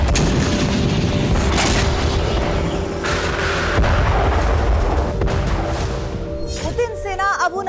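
Explosions from Russian weapon attacks in Ukraine, a series of deep booms and bursts mixed with rumble, loud and overlapping, with a voice briefly audible near the end.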